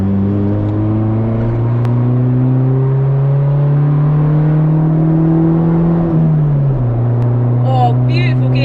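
A modified Honda with a loud aftermarket exhaust accelerates hard in second gear, the engine note rising steadily to about 5,000 rpm, then a brief drop at the gear change; heard from inside the car with a faint voice near the end.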